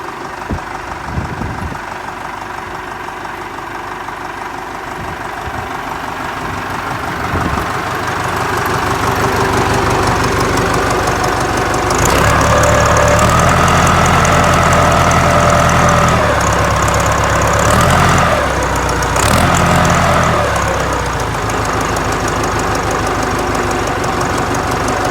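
A Ford tractor diesel idles steadily after a cold start, a loud, close, knocking rumble that swells a little in the middle and holds with a rough, even beat throughout.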